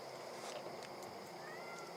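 Yuki the cat gives a few short, faint meows over a steady background hiss, with no talking.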